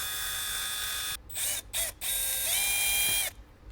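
A power driver whirs as it backs out screws under the steering column of a Jeep Wrangler JL, with a sustained mechanical whine broken by brief pauses and pitch shifts, close up.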